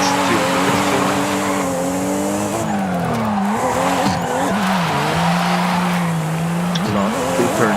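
A car drifting in Forza Horizon produces loud continuous tire squeal over a revving race engine, with the pitch wavering and dipping as it slides.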